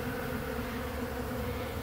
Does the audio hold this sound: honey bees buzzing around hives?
yes